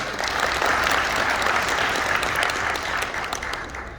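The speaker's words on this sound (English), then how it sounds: "Please give a round of applause for them" A convention centre audience at a Liberal Association fundraiser applauds members of parliament, a loud, sustained, dense clapping from many hands that fills the room and eases slightly toward the end.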